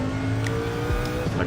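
Race car engine in Gran Turismo 7 droning steadily near the limiter, with a quick shift drop about midway and a brief tyre squeal, loud and continuous without talk.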